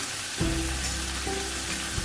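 Chilli chicken sizzles steadily in a pan as soy sauce and white vinegar go in, a close, continuous frying hiss with a brief burst of extra spatter as the liquid hits, no voices.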